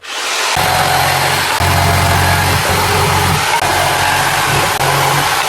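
A power saw cutting wood gives a loud, steady motorized whine with a low droning hum, briefly dipping in pitch a few times as if under load.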